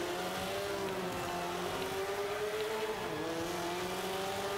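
The racing engine of a Subaru Impreza 22B in Forza 5 drones steadily through a C-class race, a continuous high whining note that holds pitch with a slight dip partway through, loud and unbroken.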